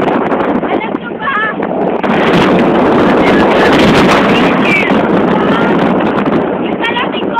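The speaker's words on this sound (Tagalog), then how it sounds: "Naririnig niyo ba yung hangin? Sobrang lakas, mga kaibigan." Strong wind roaring at a mountaintop, a loud continuous buffeting rush that batters the microphone throughout, with brief muffled voices faintly underneath.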